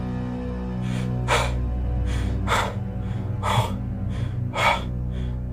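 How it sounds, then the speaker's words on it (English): A male character gasps in shock, with repeated sharp breathy gasps, about six of them at a steady rhythm, close and clear over a low continuous hum. "He gasped as the dawning realization of what happened hit him like a train."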